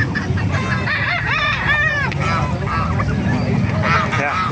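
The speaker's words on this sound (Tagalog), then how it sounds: "Napakaraming gansa oh." A flock of geese honking loudly and repeatedly up close at an animal market, with other poultry such as bantams clucking in the background and a voice faintly underneath.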